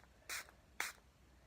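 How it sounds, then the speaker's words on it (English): Two quick, close spritzes from a pink makeup setting spray bottle, short hissing bursts separated by a brief pause. "Get my spray, because we're allowed to do that with eyeshadows."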